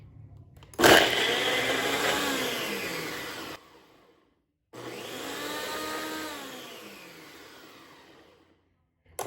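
A Ninja Professional Plus blender crushing ice whirs up loudly with a rattling, grinding churn, runs for a few seconds, stops, then starts again with a steady high-pitched motor whine.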